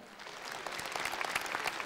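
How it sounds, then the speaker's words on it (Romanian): An audience applauding an orchestra at a concert, a dense burst of clapping that builds from soft to full within two seconds. "aplauze pentru această orchestră minunată!"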